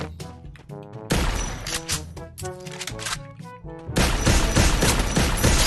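Shotgun blasts in the mobile shooter Free Fire, a long Scorpio Shatter skin: a quick burst of sharp shots, then heavier loud blasts with clattering reload sounds in between.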